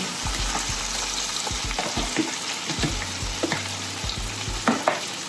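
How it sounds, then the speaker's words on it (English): White and red onion, garlic, celery and spring onion sauté in a pan with a steady close sizzle, broken by repeated stirring knocks and scrapes of a utensil. "So you just wanna saute this for about 5 minutes"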